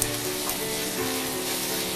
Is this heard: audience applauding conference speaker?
no